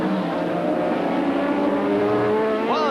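In a 1985 Formula One race, a Williams passes Ayrton Senna's car. Loud racing engines drone steadily at high revs, and one engine note climbs sharply near the end.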